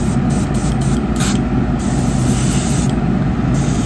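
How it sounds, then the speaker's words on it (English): Airbrush spraying paint gives a continuous, close, even hiss of air and paint that holds steady throughout. "So I'm just going to randomly spray."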